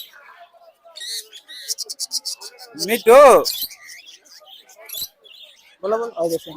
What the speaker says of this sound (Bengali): সুন্দর একটা পাখি দেখতেছেন টিয়া পাখি